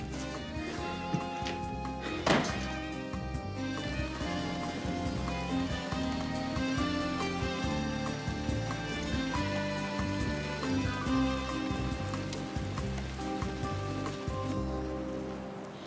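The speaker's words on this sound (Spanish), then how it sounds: "Está lloviendo mucho." Heavy rain falls steadily throughout as a constant hiss, mixed under a loud music score that stays in front the whole time.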